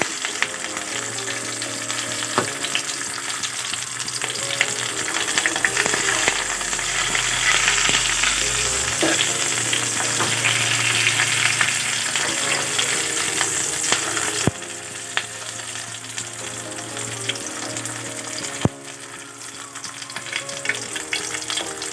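Purai (Malabar spinach) greens fry in a pan with a steady close sizzle, broken by occasional scraping and clinks as the greens are slowly turned over.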